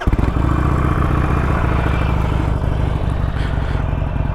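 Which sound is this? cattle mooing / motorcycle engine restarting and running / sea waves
motorcycle engine restarting and running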